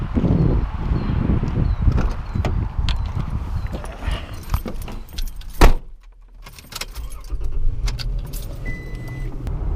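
A 2006 Toyota Tacoma SR5 with a 4-liter 1GR V6 and over 200,000 miles drives along, its engine and road noise heard from inside the cab, with jangling keys and clicks and a brief quiet dip partway through.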